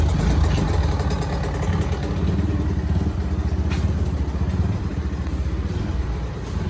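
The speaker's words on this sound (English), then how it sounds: "got his bike warming up" A dirt bike engine idles while it warms up outdoors, a loud, steady rumbling putter close by that runs without pause throughout.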